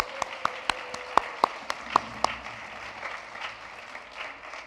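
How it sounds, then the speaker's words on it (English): A church congregation at a Sunday morning service claps to welcome visitors: a few sharp, scattered hand claps at first, then a brief patter of light applause that fades out, with a little murmuring. "let's clap for the welcome"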